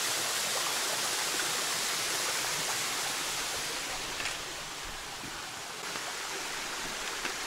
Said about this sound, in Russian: потому что вот здесь как бы водопад